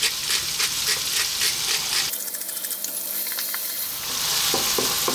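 Ham pasta sauce sizzling in a pan over medium heat, a close, steady crackling fry with bursts of spitting and a brief quieter stir in the middle.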